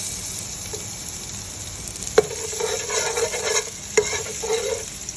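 Garlic hitting hot cooking oil in a pan for spaghetti sauce, a close steady frying hiss with two sharp utensil knocks and brief bursts of crackling.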